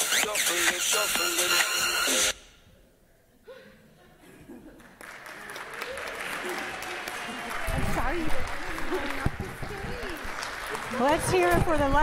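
An audience at a Halloween show in a care community claps loudly at first, the applause breaking off into a quiet lull before talking and murmuring take over.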